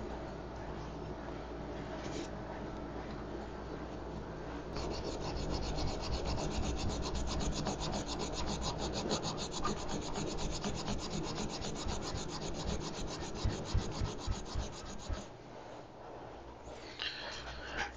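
Steady scrubbing and rubbing on a Suntour coaster brake hub arm from an old BMX mag wheel, growing louder and denser midway, with a few sharper scrapes and no talk.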